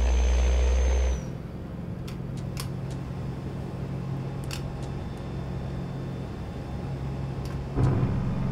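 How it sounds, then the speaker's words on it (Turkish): A 51-ton 10x4 Volvo crane tractor truck in Euro Truck Simulator 2 descends on a five-stage retarder plus engine brake, giving a steady low drone throughout after a brief louder opening burst, with a few faint clicks on top. "Beş kademe retarder artı motor freni şu anda."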